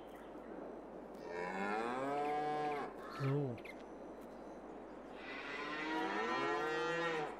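Cattle in the Farming Simulator 22 game low with long, drawn-out moos, one near the start and another toward the end, fairly loud over steady farm ambience, with a brief sharp sound between them.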